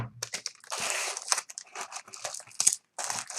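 Tape is pulled from a roll and pressed onto crinkly packaging, giving close, bursty tearing and crackling rustles with brief pauses between pulls.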